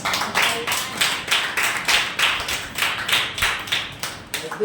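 A church congregation claps loudly together in a steady, even rhythm of sharp bursts, with no speech over it.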